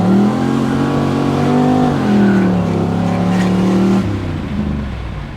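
Pontiac Firehawk with an LT1 engine spinning its tires, a loud, close, sustained engine roar with rising and falling revs under a throaty harmonic drone, easing off near the end.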